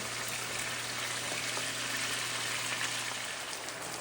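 Chicken pieces fry in a pan with a steady, dense sizzle and crackle that holds an even level throughout. A faint low hum sits beneath it, and there is no talk.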